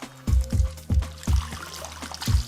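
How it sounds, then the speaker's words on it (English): Water drains from the hose of a Clipper Duo floor machine's recovery tank, coming in close, repeated gushing bursts as the hose is squeezed and released, with no voices. "squeeze the hose to control the flow of water"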